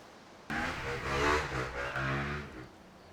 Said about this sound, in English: Someone blasting past my window on a motorbike